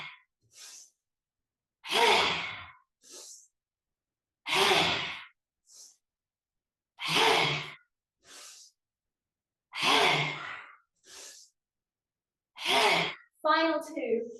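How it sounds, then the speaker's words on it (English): Forceful exhalations out through the mouth with the tongue out, done in a breathing exercise: a steady series of loud, breathy huffs about every two and a half seconds, each followed by a quieter inhale, close up. "we're going to breathe out through the mouth, sticking the tongue out"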